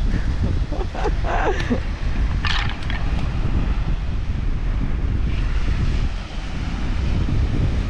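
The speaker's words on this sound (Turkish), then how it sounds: "Bayağı rüzgar çıkmış ya." Strong gusting wind roars steadily around a camper-van campsite outdoors, a loud continuous broadband rush with brief fainter bursts of voices early on.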